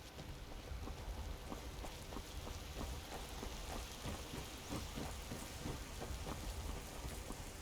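A thunderstorm summoned by the Storm Call shout in the video game Skyrim: steady heavy rain pattering on surfaces with low rolling thunder and repeated crackling strikes, sustained and fairly distant, with no voices.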